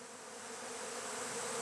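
Honeybees buzz steadily and close, a dense continuous drone that swells slightly louder toward the end, with no voices present.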